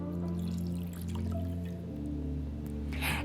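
Bourbon poured into chocolate pecan pie filling, a soft trickling, dripping liquid sound close by, faint under a steady background of music.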